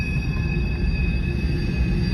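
A Canadian National freight train led by an SD70M-2 locomotive rolls slowly past on the Beaumont Subdivision. A loud, steady low rumble of the railcars carries a faint high wheel squeal, with no talking.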